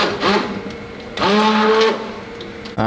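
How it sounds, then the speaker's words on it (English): A hand blender purees butternut squash soup, whirring close and loud in two bursts with changing pitch as the blade works through the thick soup. "So I'm using a hand mixer, but you can use also a blender"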